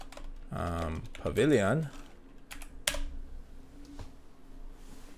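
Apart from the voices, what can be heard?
typing on a computer keyboard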